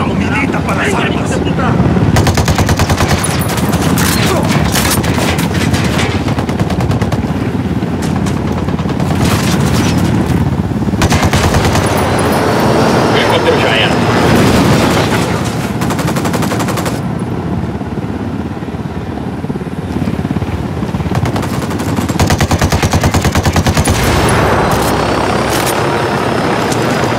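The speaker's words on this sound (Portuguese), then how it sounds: "Belo tiroteio." Loud, sustained gunfire from a shootout in the video game Ghost Recon Wildlands, with bursts of automatic fire and booms throughout, and a helicopter's drone mixed in underneath.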